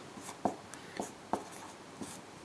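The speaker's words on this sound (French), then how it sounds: "je vais l'écrire ici." Faint, separate marker or chalk strokes on a board during a maths lesson on derivatives, about five quick scratchy marks spaced a few tenths of a second apart.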